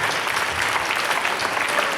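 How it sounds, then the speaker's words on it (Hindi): An audience at an Islamic quiz social gathering claps loudly, dense steady applause filling the short stretch without letting up. "जोरदार तालियां बजाइए।"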